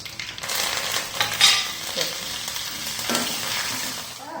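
Green chillies and curry leaves fry in hot oil with a loud, close, steady sizzle, a sharp burst near the start and occasional stirring scrapes, without any talk.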